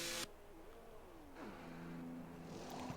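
An F1 car in the F1 23 video game enters the pits with a whining engine note that drops and settles into a steady, moderately loud pit-lane hum after a short burst of noise.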